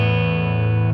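Electric guitar played through a BOSS Katana MK2 amp with an effect variation engaged, a single sustained distorted chord ringing loud and steady for about a second before cutting off.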